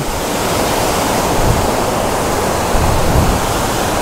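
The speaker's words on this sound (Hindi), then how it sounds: "This is Tirathgarh waterfall." Tirathgarh waterfall pouring with a constant, dense roar of rushing water, loud and unbroken throughout, with a few low rumbling gusts and no voices.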